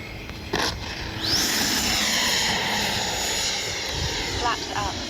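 A Freewing Yak 130 RC model jet spooling up its ducted fan to power away after a bounce on a grass landing, a rising whine that holds loud and steady while someone talks over it.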